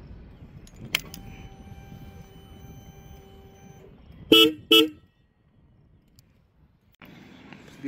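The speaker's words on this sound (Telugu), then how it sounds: "హార్న్ సౌండ్ విందాం." Two short, bright horn toots from a Royal Enfield Continental GT 650 motorcycle sound close by in quick succession, preceded by a faint mechanical whir and followed by quiet.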